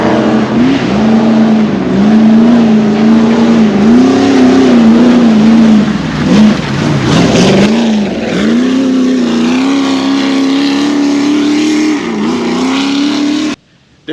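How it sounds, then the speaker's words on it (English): A Milwaukee M18 battery-powered inflator airing up 37-inch mud tires, its loud, continuous motorized buzz running steadily with slight pitch wobble for about thirteen seconds before cutting off abruptly. "air up these 37-inch mud tires with this battery powered inflator"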